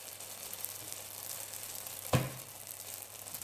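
Melwi flatbread sizzling steadily in a hot pan, with a single soft thud partway through as it is flipped over, then the gentle frying hiss carries on.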